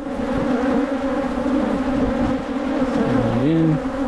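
Honeybees buzz in a steady, close-up drone, with a single bee's pitch rising and falling briefly near the end.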